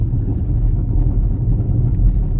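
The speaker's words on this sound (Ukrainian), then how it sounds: "може буде чути, як мене робить зараз ходовка. Зараз якраз по польовій дорозі їду" Worn front suspension of a Skoda Octavia Tour on a dirt field road: a steady low rumble of the car interior with dull irregular knocks and thumps beneath, no voices.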